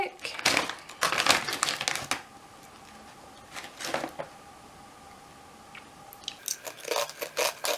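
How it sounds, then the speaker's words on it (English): Black pepper crackers from Indonesia crunch in bursts of bites and chewing, loud and close, with quieter crinkly pauses between. "they're just black pepper crackers. They are really nice, they're really crunchy."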